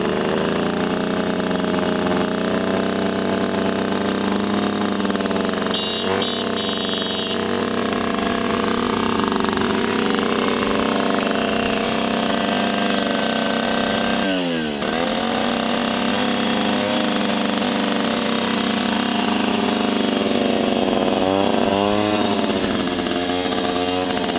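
A Suzuki F50 Cutlass motorcycle engine, not yet primed and in need of a tune-up, runs steadily and loudly for the whole stretch. It holds a dense, buzzy idle with brief shifts in pitch, and no one talks over it.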